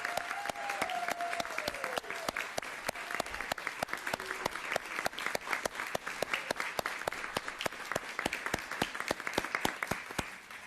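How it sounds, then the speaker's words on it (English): Sustained applause from a crowd at a council meeting inauguration, dense steady clapping lasting several seconds, with a brief voice early on. "Can you all give a big round of applause to Councilman Denise Mitchell?"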